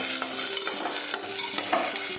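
Chopped cluster beans and potatoes fry in a pan while a spoon stirs them, a steady close sizzle broken by soft scraping strokes.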